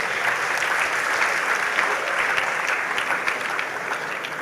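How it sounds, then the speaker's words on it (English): Students at a school graduation ceremony applauding, a dense, loud burst of crowd clapping sustained throughout with no speech. "Clap for yourself."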